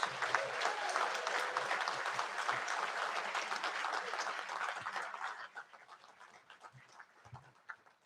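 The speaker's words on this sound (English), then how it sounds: "How about a round of applause for our Masters of Accounting graduates?" An audience at a master's hooding ceremony applauds graduates with dense, sustained clapping that thins out and fades toward the end.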